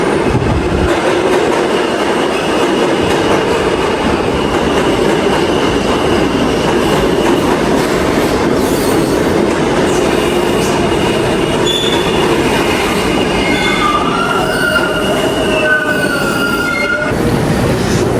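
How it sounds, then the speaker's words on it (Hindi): Subway train arriving and running on the rails at an underground station, a loud continuous roar with rumbling wheels and rising metallic squeals toward the end, close by with no talk. "ये एक ट्रेन आ गई।"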